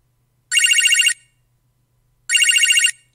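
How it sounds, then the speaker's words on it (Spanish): An old telephone rings twice in the video game Manamon 2, each burst a bright, rapid bell trill about half a second long with a silent gap between, loud and close with no voices. "Qué teléfono feo"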